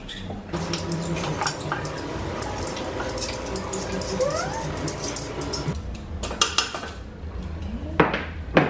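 Broccoli florets and carrots are tipped into a stir-fry pan, giving a busy run of clattering, rattling clicks with pan and utensil knocks, then a few sharper scraping hits near the end.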